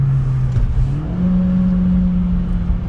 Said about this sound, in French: c'est le son du moteur.